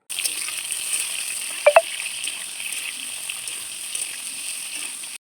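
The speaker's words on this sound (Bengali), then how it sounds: "তারপরে ওই ভাজা আলুর মধ্যেই আমি দিয়ে দেব কেটে রাখা ঝিঙেগুলো।" Sliced ridge gourd and fried potatoes sizzling together in oil in a kadai, a steady close hiss with stirring noises and two sharp metallic clinks partway through, no talking.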